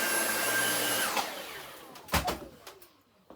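A vacuum cleaner in a holiday cottage whines loudly and then powers down with a falling pitch, followed by a few bumps and rattles as it stops.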